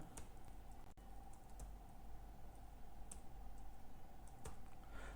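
Light keystrokes tap on a computer keyboard as a captcha is typed into an online B.Ed counselling form. The clicks are faint and scattered over a steady hum of background noise, with no voice present.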